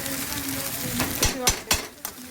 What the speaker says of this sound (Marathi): मस्त आता ह्याला हलवून घेते